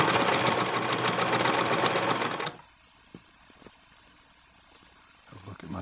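A Janome HD 1000 sewing machine stitches through thick layered denim with a loud, steady mechanical whir, then stops abruptly, leaving faint handling clicks and quiet rustling.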